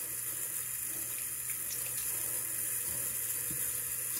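Water runs steadily from a bathroom tap into a sink, a continuous close hiss with no talking over it.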